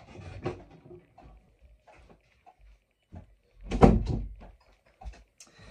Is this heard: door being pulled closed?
yes